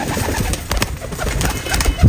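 Pigeons being handled at a bird sale coo softly in low murmurs through continuous background noise, with a louder thump near the end and no clear wingbeats.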